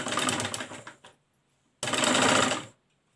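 Sewing machine stitching a raglan-sleeve baby frock: two loud, close bursts of rapid mechanical whirring separated by a short pause, with no talk.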